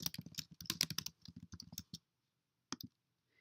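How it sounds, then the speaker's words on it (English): Computer keyboard typing in a quick burst of crisp key clicks for about two seconds, a pause, then a couple more taps, close and clear with no talk. "You're going to type in your title"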